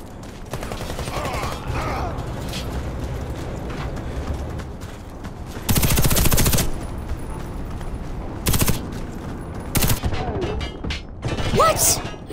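Automatic gunfire in the shooter Warface, heard as rapid bursts of shots over constant gameplay noise, with a long loud volley midway and shorter bursts later. Brief voices come in between the bursts.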